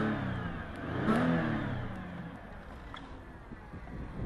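A Porsche Panamera 4 engine idling with the hood open, a close, steady mid-pitched hum that swells briefly as if lightly revved, then settles back to a smooth drone.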